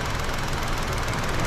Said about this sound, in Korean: 자, 이제 시동을 틀었습니다.